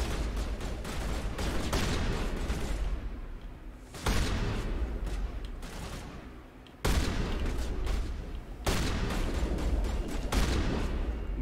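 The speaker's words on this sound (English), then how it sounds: "Can you guys just stop shooting?" Continuous game gunfire in Mass Effect, dense rapid-fire shots and bursts rattling on for several seconds, loud and close, with brief pauses between volleys.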